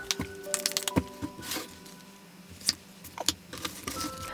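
Tarot cards being drawn and handled, with light papery flicks, taps and small rustles scattered through a few seconds, close and quiet, with no talking.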